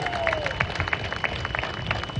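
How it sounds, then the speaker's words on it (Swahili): Audience applauding at the African Climate Summit, a dense patter of clapping from a large crowd, moderately loud and even throughout. "Pigeni makofi jameni."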